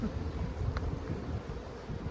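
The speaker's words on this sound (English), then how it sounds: "go ahead and shake some bees" Honeybees from a hive buzz steadily as frames are shaken, a low continuous drone with a brief bump in the middle and no voices over it.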